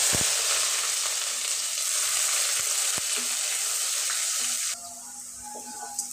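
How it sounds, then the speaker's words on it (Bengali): Onions frying lightly in oil in a pan: a close, continuous bright sizzle that holds steady and then drops noticeably quieter near the end, with a few faint clicks. "পেঁয়াজটা আমি একটু হালকা করে ভেজে নিব।"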